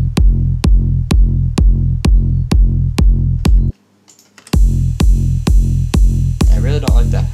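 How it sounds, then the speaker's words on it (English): A big room house drum loop built in FL Studio thumps out a heavy, evenly spaced kick with crisp hats. It cuts out briefly, then returns with added high layers. "now we've got our drum track down, which sounds like this."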